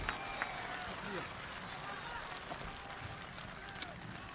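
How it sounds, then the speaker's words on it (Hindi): A crowd applauds at a political public meeting in Anantnag, Jammu and Kashmir. The clapping is a steady, faint wash that sounds distant and continues evenly throughout. "जोरदार तालियों से।"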